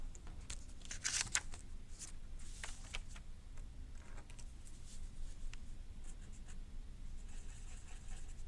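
Marker or pen scratching on a board during a sentence diagramming lesson, faint, close squeaky strokes and taps in irregular bursts over a low steady room hum, with no talk.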